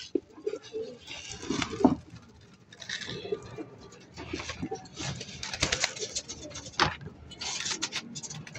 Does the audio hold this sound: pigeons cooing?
yes